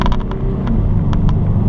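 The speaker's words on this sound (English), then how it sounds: "off the line, the little 4-cylinder diesel engine here performs quite well" A Ford Endura ST-Line's small 4-cylinder diesel engine accelerating off the line, a loud, steady low rumble close by with a few brief clicks on top.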